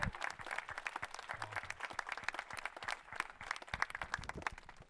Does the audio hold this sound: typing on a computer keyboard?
no